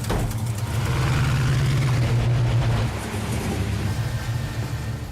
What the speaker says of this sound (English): The car sounds awesome when it fires up. The engine sounds great. It sounds like a muscle car.